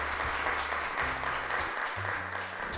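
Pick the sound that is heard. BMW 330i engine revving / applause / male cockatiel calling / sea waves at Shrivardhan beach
applause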